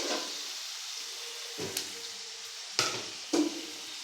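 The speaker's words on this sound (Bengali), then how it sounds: "এটাকে একটু লাল লাল করে ভাজতে হবে।" Chopped onions fry in a pan with a soft, steady sizzle, punctuated by a few sharp clatters of stirring.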